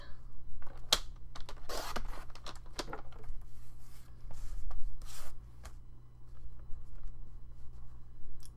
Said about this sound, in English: Okay, let's cut some more of these.